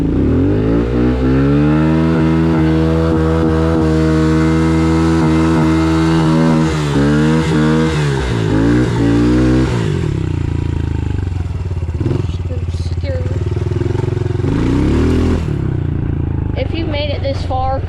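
Honda CRF 110 dirt bike ridden in the rain: a loud, close engine droning steadily, then revving and shifting pitch before settling into a rougher idle-like rumble with some clattering, with a voice talking over it.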